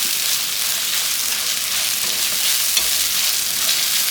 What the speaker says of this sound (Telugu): టొమాటో మనకి ఇక్కడ కరెక్ట్గా వేయించాలండి